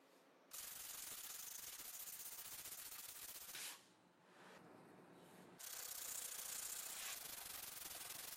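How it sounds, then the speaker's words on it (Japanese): Fully cured hard body putty sanded by hand with coarse 80-grit cloth-backed sandpaper: close, steady scratchy rasping strokes, nearly continuous, with a brief softer lull midway. "パテは硬くて頑丈ですが、研磨は楽です。"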